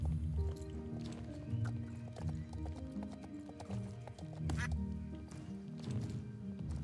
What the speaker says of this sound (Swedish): Då hittar vi en till anka.